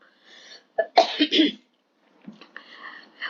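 A short burst of several harsh coughs up close from a lingering post-fever cough, bunched together, followed by quieter breathy rustling and another faint cough-like sound.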